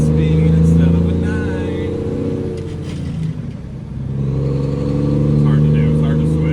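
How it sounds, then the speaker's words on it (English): A diesel truck engine drones loudly and steadily from inside the cab while the driver shifts gears, the tone dipping briefly mid-clip before building back up. "I was shifting to 10 speed instead of a 9."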